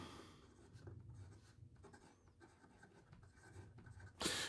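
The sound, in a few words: Leonardo Mosaico fountain pen with fine flex nib writing on paper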